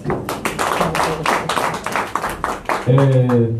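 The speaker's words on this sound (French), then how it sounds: "Applaudissez-le." Scattered hand claps from a small audience at a French-language press conference, uneven and brief, mixed with voices before a speaker takes over at the close.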